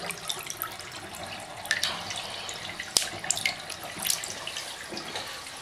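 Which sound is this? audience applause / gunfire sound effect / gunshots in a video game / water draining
water draining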